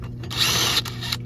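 A handheld power drill, not an impact driver, runs in steady bursts while reassembling a 1988 Suzuki-powered Toro lawn mower, its high whir rising and easing up close with no talk over it.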